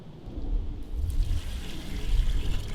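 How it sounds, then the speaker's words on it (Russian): Three litres of water poured into a container for making sugar syrup for bees, a close, steady gush and splash that keeps going and grows slightly louder toward the end. "Заливаем 3 литра воды."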